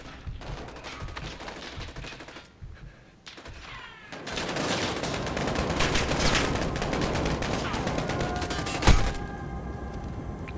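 Heavy automatic gunfire in the Modern Warfare 2019 shooter, with dense rapid bursts and overlapping shots that swell into a near-continuous barrage aimed at the player, with one louder crack near the end.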